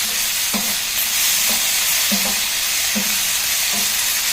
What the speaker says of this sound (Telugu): ఎండుమిరపకాయలు ఊరికనే ఉంటుంది, ఫ్రై అవుతాయి కదా